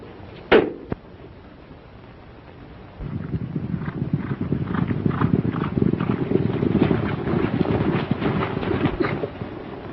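Horse hooves clip-clop in a rapid, steady rhythm of repeated dull knocks that start about three seconds in and continue to the end, fairly close, after a sharp thump near the start.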